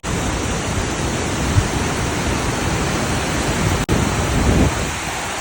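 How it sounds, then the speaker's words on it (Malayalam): Ulakki waterfall in a Kerala forest roars as a steady, dense wash of falling water, loud and close, unbroken across the whole stretch apart from one brief dropout near the end. "ഫൈനലി നമ്മളിതാ ഉരക്കുയി വെള്ളച്ചാട്ടത്തിൽ എത്തിയിട്ടുണ്ട് കേട്ടോ"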